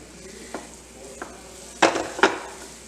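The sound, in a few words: roasting flour in butter on low gas, stirring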